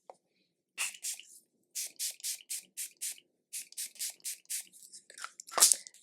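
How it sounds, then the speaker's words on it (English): Quick series of short, crisp spritzes from a makeup setting spray bottle, about a dozen bursts in a regular rhythm, close and fairly quiet. "I take the Milani Make It Last setting spray, and now we're setting everything"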